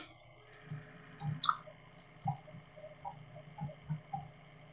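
Computer keyboard keys pressed while zooming out in Minecraft Java Edition: scattered light clicks and ticks, close and fairly quiet, spaced irregularly over a few seconds against a faint background hum.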